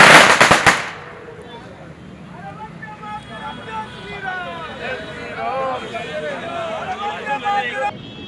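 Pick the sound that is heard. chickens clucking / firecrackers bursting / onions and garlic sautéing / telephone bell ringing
firecrackers bursting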